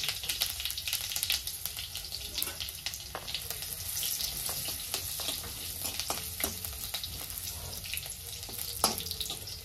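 Garlic and mustard seeds fry in hot oil in a pan, giving a steady, close sizzle with crackling pops throughout while stuffed capsicum is being made.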